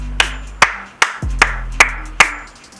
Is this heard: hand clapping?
yes